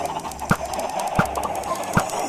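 Soft clucking from chickens in Minecraft with a few sharper pops at regular intervals, over a low steady background hum.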